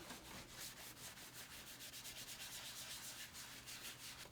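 Alcohol-soaked cloth rubbed briskly along the powder-coated rails of a Onewheel GTS, a steady rhythmic scrubbing heard close and alone with no talk.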